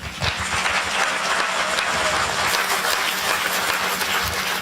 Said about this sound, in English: Let's give a round of applause to Steve.